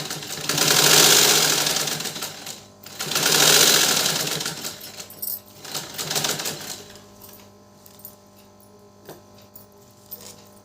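Sewing machine running a seam along a fold at the waist of a two-color kameez: two close bursts of rapid rattling stitching, then a shorter third run, followed by quieter handling sounds.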